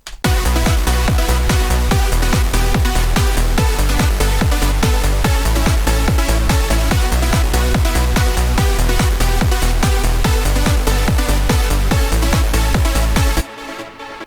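A loud electronic drum pattern pounds out a steady, driving beat with punchy kicks and crisp hits, running continuously before stopping abruptly.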